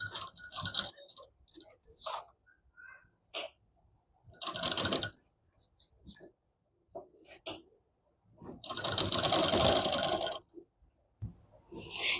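A sewing machine stitching a double katori blouse runs in short bursts of rapid mechanical whirring, separated by pauses, with one longer run near the end, close and moderately loud.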